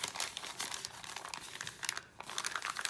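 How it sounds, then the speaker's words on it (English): Brown paper lunch sacks are handled up close, with quick bursts of crinkling and rustling paper and a brief pause in the middle. "Oh, I have 2 bags here. Okay, they're stuck together."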